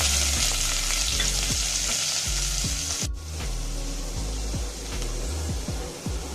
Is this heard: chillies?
yes